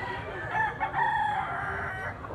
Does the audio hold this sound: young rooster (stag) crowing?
yes